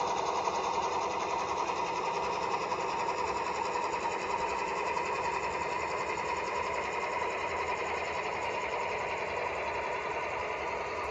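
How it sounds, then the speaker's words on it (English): Two GP38 locomotives in notch 5 hauling a track of freight cars: a constant, steady engine drone with a fine high-pitched whine, unbroken and fairly loud throughout. "Those two GP38s are struggling to move this track."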